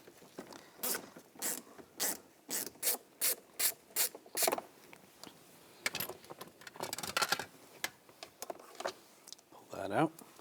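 A ratchet wrench with a 7mm socket backs a screw out of a 2014-2018 GMC Sierra front door panel during window regulator work, giving close, bursty clicking strokes in quick runs with pauses and handling noise between them.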